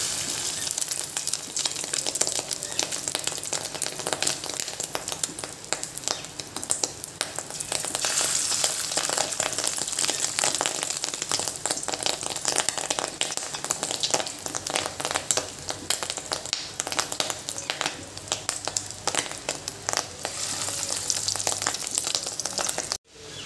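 Spicy fish roe fritters fry in hot oil in a wok, giving a loud, steady sizzle that crackles continuously for over twenty seconds with no talking.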